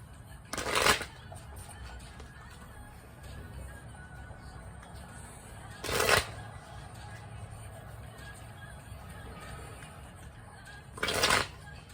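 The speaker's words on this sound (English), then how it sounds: "I'm going to go ahead and begin shuffling." A Cosmic Tarot card deck being shuffled, three short crisp riffling bursts spaced several seconds apart, close and clear against quiet room noise.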